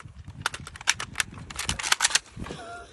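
An AK-74 rifle reloaded at speed during a reload competition, a quick burst of sharp metallic clicks and clacks from magazine and bolt, close and loud, ending in a softer rattle.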